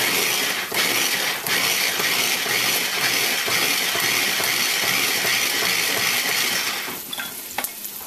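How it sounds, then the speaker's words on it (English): A grinder coarsely chops jalapeño and cilantro with a loud, continuous whirring roar that cuts off near the end, leaving quieter clatter. "I'm going to grind these things, not to make a really paste, but it's kind of coarsely grinded"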